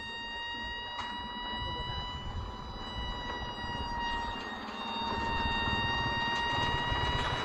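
A brushless electric RC model F-22 Raptor jet flies by, its steady high-pitched whine holding several tones and rising in loudness toward the end, with someone talking over it.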